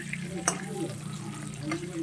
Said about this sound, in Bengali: তা আমি আলুটা ভেজে নিচ্ছি ওই কড়াইতেই